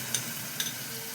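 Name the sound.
yogurt added to frying spice paste for prawn curry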